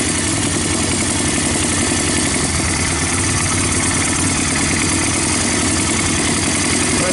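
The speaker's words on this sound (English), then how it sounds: "Sounds a little rich. I'm not quite sure about this carburetor." Yamaha Bear Tracker 250 ATV engine idling rich on a new carburetor, a steady, loud, close burbling putter with constant low vibration throughout and no voices.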